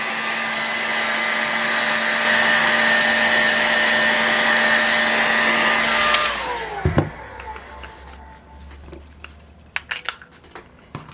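A heat gun blows a loud, steady whine while heating a seized Boca Bearing OS BX-1 skateboard bearing, then cuts off abruptly, leaving a falling tone and scattered small metallic clicks and taps.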